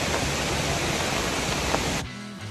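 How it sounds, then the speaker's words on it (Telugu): A steady, dense wash of heavy rain falls at Tirathgarh Waterfalls in Chhattisgarh, loud and continuous, then cuts off abruptly near the end, leaving a low, faint hum. "చాలా పెద్ద వర్షం పడుతుంది"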